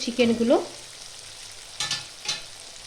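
Chicken pieces drop into frying spice paste with green chillies for chicken do pyaza, making a short sizzle and a brief tonal clatter at the start, followed by a couple of quieter stirring scrapes against a low hiss.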